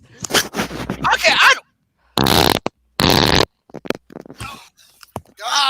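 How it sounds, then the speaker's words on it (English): Farts in a comedy podcast bit about synchronized farting, several loud, close, buzzy bursts separated by silences, with people talking and reacting in between. "we're synchronized farting"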